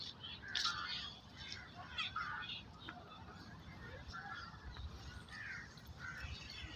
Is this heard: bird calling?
yes